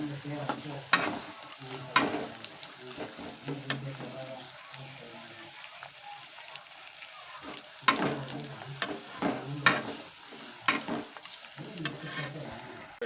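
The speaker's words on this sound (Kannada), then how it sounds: "ಬೀನ್ಸ್ ಗಜ್ಜರಿ ಹಾಕೊತೀನಿ ಇವು ಸ್ವಲ್ಪ ಹಸಿ ವಾಸನೆ ಹೋಗಂಗೆ ಫ್ರೈ ಆಗಲ್ಲ ರೀ" Beans and carrots frying in oil for North Karnataka vegetable upma, a low crackling sizzle with repeated loud spoon knocks and scraping stirs in an uneven rhythm, close by, with no talking.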